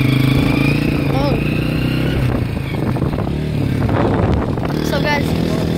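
A Honda CRF dirt bike being ridden, its engine droning and revving steadily up close with clattery bumps, while people talk over the engine.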